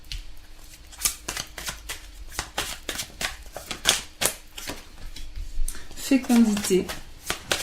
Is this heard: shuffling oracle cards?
yes